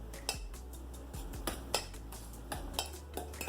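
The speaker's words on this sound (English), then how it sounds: "we're going to use our fork to mix all of these ingredients together" A fork mixing pork and crab wonton filling in a bowl: a steady run of close metallic clinks and scrapes against the dish, roughly every half second, with soft stirring in between and no voices.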